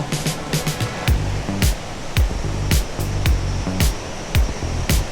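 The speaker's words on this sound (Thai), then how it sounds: "ฟังเสียงน้ำตกนี่ดู" A waterfall gives steady rushing water with a broad roar, broken by sharp bursts and low tonal murmurs underneath; continuous and fairly close throughout.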